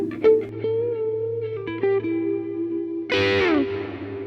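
An electric guitar runs through a Universal Audio reverb pedal set with pre-delay: sustained picked notes and a few plucks ring with a spacious tail, then a louder strummed chord blooms and decays into the wash.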